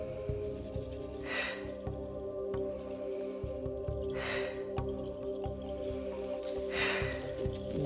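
Deep, forceful breaths during a guided Wim Hof breathing exercise, three long rushing inhale-exhale swells spaced evenly over a steady low hum, close and clear.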